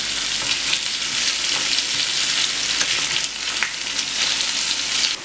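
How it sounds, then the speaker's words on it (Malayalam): Loud, steady sizzling of fish frying in hot oil, a constant crackling hiss close up with occasional sharper pops. "മീനിൻ്റെ ഒരു വശം നന്നായിട്ട് മുരിഞ്ഞ് ഫ്രൈ ആയി വന്നിട്ടുണ്ട്"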